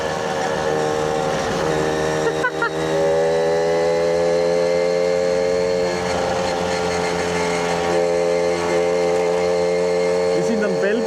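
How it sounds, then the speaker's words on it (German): A moped (Töffli) engine drones loudly and continuously on a ride from Lauterbrunnen to Bern, its steady buzzing pitch rising and falling slightly, with riders talking over it. "Aber Motor ist schon laut"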